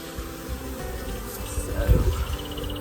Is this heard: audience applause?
no